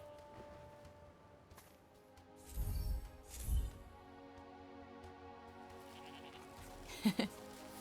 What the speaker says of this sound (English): Just feeding some sheep.